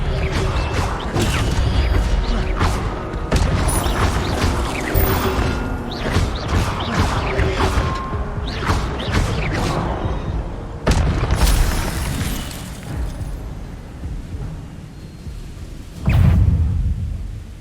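Expelliarmus spell effects cast in a video game: a dense, loud run of booming blasts and crashing impacts with sharp bursts throughout, easing slightly before one last heavy thump near the end.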